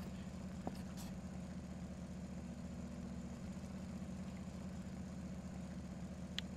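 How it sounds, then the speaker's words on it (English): The engine of a fishing boat in a video game set on the Norwegian Sea, idling at sea with a steady low mechanical drone that holds even throughout, with only a couple of faint clicks on top. No one talks. "I don't like this engine sound"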